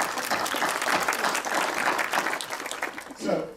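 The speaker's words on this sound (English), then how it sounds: "A round of applause for our panel." An audience at the Res2Prac 2018 cooperation pitch session in Tlemcen, Algeria, applauds a panel with steady, dense clapping that holds for several seconds before a voice briefly cuts in at the end.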